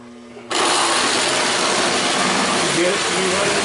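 The motor of a Marx Commodore Vanderbilt toy locomotive with a manual reverse lever suddenly starts up in reverse, making a loud, steady whirring buzz right after a quieter moment.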